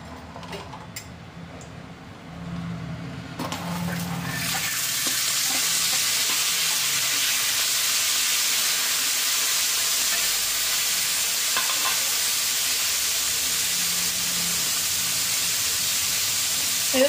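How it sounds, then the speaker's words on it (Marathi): Chickpeas frying in a pan give a loud, steady sizzle that swells after a few seconds and holds broad and constant, with occasional stirring scrapes and ticks, no talking. "हे सगळं फ्राय करते."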